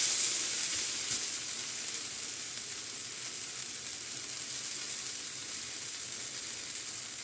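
A dosa frying on its second side in a pan gives a steady, close sizzle with a hissy high-pitched edge. It fades slightly after the first second and then holds even, with no voices.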